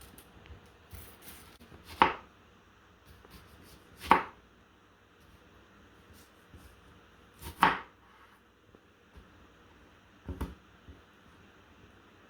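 Knife chopping through an onion on a cutting board for a wild venison dish, a few sharp, spaced knocks landing about every two to three seconds, close and alone.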